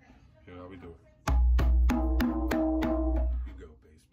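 African hand drum played in a sequence of strokes, two deep bass hits, two ringing tones and two sharp slaps, loud and close, with faint speech before the strokes begin.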